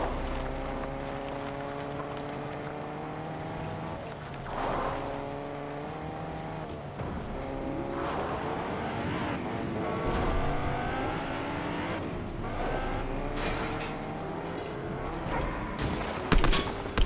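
A car engine in the Fortnite video game drones steadily with rising and falling revs through the whole stretch, with squeals and bursts of in-game noise toward the end.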